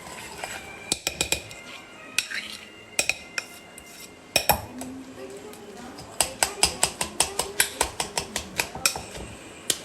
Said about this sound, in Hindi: एंड एक स्पून लेके we will just give it a nice mix